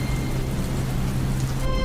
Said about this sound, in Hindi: तभी तेज बारिश का झोंका आता है